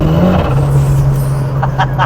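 A 560bhp Ford Sierra Cosworth cruises in fourth gear on greasy roads, its steady engine drone holding a low hum throughout while a faint voice murmurs briefly near the end.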